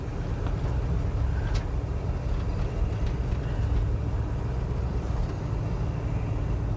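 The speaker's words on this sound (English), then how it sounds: "who needs a radio when you got an engine sounding like this?" A 1967 Chevrolet Chevelle SS big-block V8 rumbles heavily from inside the car while driving, a deep, steady low drone with road noise and no talk.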